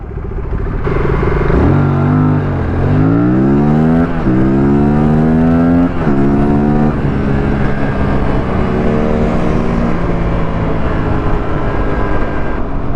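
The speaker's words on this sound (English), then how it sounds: "Kalyan on RC390 called me for a 0 to 100 drag race" A KTM RC390 motorcycle accelerates hard in a 0 to 100 drag race, its engine note climbing loud and close through several rising gear pulls, with short dips at each shift.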